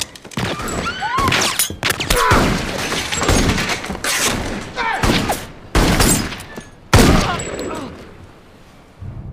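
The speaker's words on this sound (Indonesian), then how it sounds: "Setelah Shane memberikan tembakan perlawanan, satu orang penyerang berhasil Shane lumpuhkan." A burst of gunfire exchange: sharp loud shots cracking in irregular clusters, with crashes and thuds between them and a brief shout mixed in.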